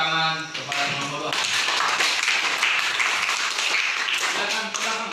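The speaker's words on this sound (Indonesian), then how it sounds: "beri tepuk tangan kepada kelompok 2" Students clapping for a student group after its presentation in a ninth-grade junior high classroom in Indonesia; brisk, dense clapping that follows a teacher's voice and continues evenly to the end.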